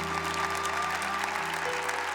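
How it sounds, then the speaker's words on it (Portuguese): A church congregation claps together for Jesus in steady, sustained applause, with sustained organ or keyboard tones ringing underneath. "Vamos dar uma salva de palmas para Jesus."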